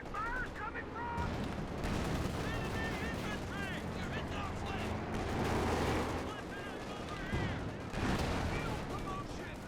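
Mortar and gunfire in the Company of Heroes 2 video game on a 4v4 Port of Hamburg map, bursts of shooting and thuds mixed with shouting in-game voices, heard at moderate level under ongoing commentary.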